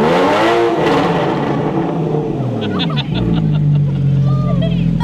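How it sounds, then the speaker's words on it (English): A Porsche sports car engine revs loudly up and down nearby at a supercar country club, with people talking and chattering over it. "You wanna hear the Porsche?"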